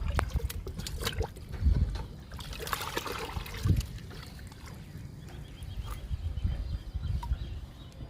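Liquid fertilizer for flowering plants poured into 10-litre buckets of water, splashing and gurgling in uneven bursts with trickles and a bucket knock, close by and without speech.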